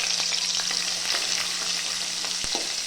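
Garlic frying in hot oil for khar vange, a dense, steady sizzle close to the pan, with faint stirring taps and a single sharp knock near the end, and no talking.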